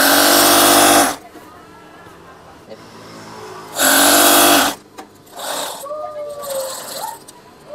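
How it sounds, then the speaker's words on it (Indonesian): A sewing machine stitches curtain fabric in two loud, buzzing bursts of about a second each, separated by quieter handling noises, with someone talking afterward. "Jahit saja."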